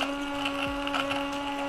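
A kitchen blender whirs steadily with a constant motor whine while blending a spicy mango salad dressing, close and continuous with no talking.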